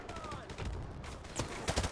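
Gunfire from the video game Call of Duty 4: Modern Warfare, with rapid overlapping shots and bursts heard at moderate level within a busy game mix.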